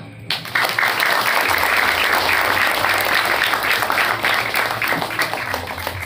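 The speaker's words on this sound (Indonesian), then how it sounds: "berikan tepuk tangan antum untuk Nusantara" Audience applause fills a seminar hall at an Islamic boarding school, a dense steady clapping that swells quickly and holds loud and near for several seconds without talk over it.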